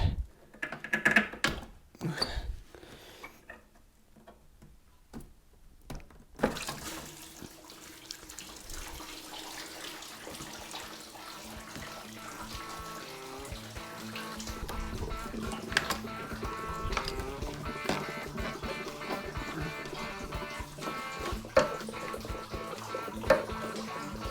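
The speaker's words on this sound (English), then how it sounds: "Hopefully most of the coolant is going to go into the bucket." Coolant drains from a Land Rover Defender TD5 into a bucket beneath it, beginning with a few clicks and clatter, then a steady splashing, trickling stream that runs on, close and moderately loud, with no talking.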